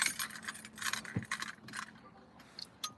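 A set of keys jangles and clicks in quiet, intermittent metallic bursts as one key is tried in a lock, close by and soft.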